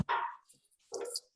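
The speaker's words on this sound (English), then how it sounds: "I'm hearing a dog, so somebody needs to mute themselves." A dog barks in the background of a video call, two short, faint barks separated by a pause, heard alone with no talk.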